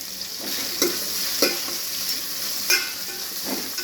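Onions sizzle in hot oil for a Chettinad crab curry, a steady bright frying hiss broken by a few soft stirring scrapes of a spoon in the pan, close and with no voices.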